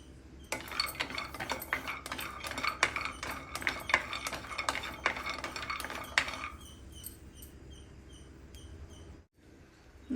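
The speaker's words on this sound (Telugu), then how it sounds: "బాండి పెట్టి అందులో ఈ బాదం జీడిపప్పు ఇవన్నీ డ్రై రోస్ట్ చేసుకోవాలి" Almonds and cashews are dry roasted in a kadai, scraped and tossed with a metal spoon in rapid, repeated clinks and rattles for about six seconds before the stirring stops and only a quiet hum is left.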